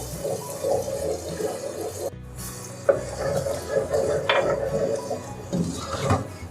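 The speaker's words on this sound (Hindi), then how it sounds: "मसाला जब भूनते हैं तो थोड़ा सा पानी डाल के मसाला भूनते हैं।" Masala frying in a pan with a little water, stirred by a spoon: steady sizzling hiss with scraping, clinking stirs and a brief pause midway, close and moderately loud, no talk.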